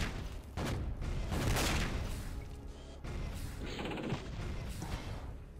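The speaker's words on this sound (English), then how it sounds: "All those sonic explosions, like, how can you not like this?" Rockets and blasts go off in the Doom mod Epic 2, a rapid run of booming explosions and rumbling impacts that rise and fade over one another at a fairly low overall level.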